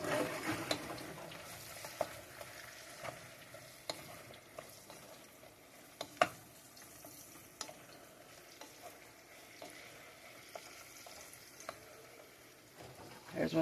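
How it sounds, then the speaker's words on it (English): Apples sizzle as they fry in melted butter in a pan while being stirred, a soft steady crackle punctuated by scraping clicks of the utensil against the pan. "Stir it up."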